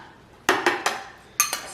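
A spoon clinks several times against a bowl while Sriracha spicy mayo is stirred, giving sharp, close metallic taps in two quick bursts.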